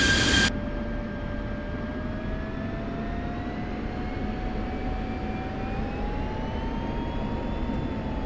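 An F-16 jet engine in the DCS flight simulator holds a steady whining drone during a SEC engine control test, its tone drifting slowly upward, after a brief loud burst at the start.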